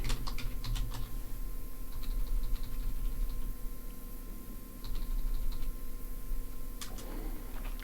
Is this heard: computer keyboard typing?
yes